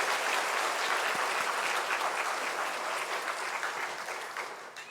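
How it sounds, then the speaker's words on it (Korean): A church congregation applauds the choir with warm, sustained clapping, a dense even wash of many hands that holds steady and then begins to fade at the end. "우리 연합찬양대 위해서 크게 뜨겁게 박수하겠습니다"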